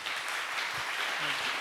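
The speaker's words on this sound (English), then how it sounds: "Give him a huge round of applause" Sustained audience applause at a keynote on the new science of cause and effect, a dense wash of many hands clapping with no pauses, steady and fairly loud, with a few faint voices underneath.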